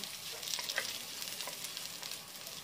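Onions for a breadfruit dish sizzle and fry in a pan while being stirred. A soft, steady hiss carries faint scraping and clinking from the stirring.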